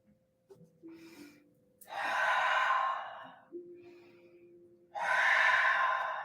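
Slow, loud exhales and inhales during a yoga class, two long airy breaths close to the microphone separated by quieter short intakes, with faint tonal hum underneath and no talking.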